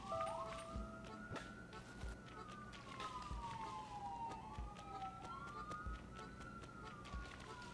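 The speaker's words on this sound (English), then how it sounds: "I know that's an ambulance and not a squad car" An ambulance siren passing a house, heard faintly from a distance. The wail rises and falls in slow sweeps over quiet background noise.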